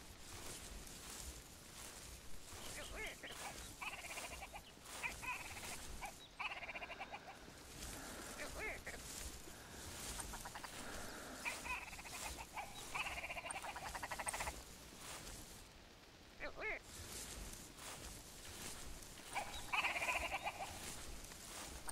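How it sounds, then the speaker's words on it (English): Birds call throughout a video game expedition on southward slopes, with dense overlapping chirps and croaking calls over a steady ambient bed, rising and falling for about twenty seconds at moderate loudness. "Okay, we're definitely closing in on the birds."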